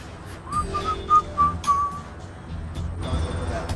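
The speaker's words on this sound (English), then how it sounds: "He whistles, right?" A man whistles a short run of clear notes, a handful of brief tones at moderate level, with faint background sound and no speech over it.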